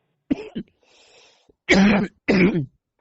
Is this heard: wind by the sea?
no